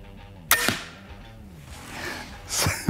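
A Ravin R18 crossbow fires a shot outdoors: a sharp, loud snap of release with a quick thump, then quiet, and another sharp crack near the end.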